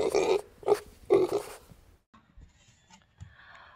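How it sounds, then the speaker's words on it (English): A pig gives three short grunting oinks in quick succession, loud and close, followed by near silence with faint scratchy noises. "Pigs oink."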